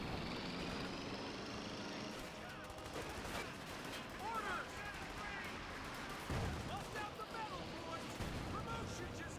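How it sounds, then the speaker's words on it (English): A Thompson submachine gun rattles off bursts in Company of Heroes 2, mixed with other scattered gunfire and battle noise, with talk running over the top. "The Thompson is firing away"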